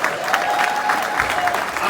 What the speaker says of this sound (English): we can give a round of applause to Tony.